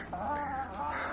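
Several chickens cluck close by in a steady, busy stream of short calls, with no talking.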